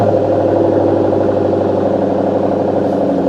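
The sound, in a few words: Shelby car engine and exhaust running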